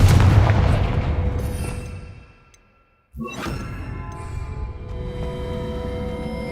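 Confringo fire spell blast in the Hogwarts Legacy video game: a loud booming impact that fades into near silence, followed by a sharp crack and a ringing, crackling burst that lingers.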